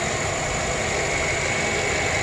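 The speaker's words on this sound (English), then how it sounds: "As you can hear, motor runs real good." A 2008 Chevy Silverado with a 5.3 liter V8 idles smoothly and steadily, a close, even engine drone with a constant hum and no misses or knocks.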